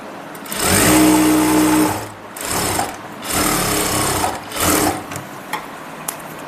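A sewing machine stitches a palazzo in loud, close bursts of rapid mechanical whirring, four runs separated by brief pauses, ending with a few light clicks.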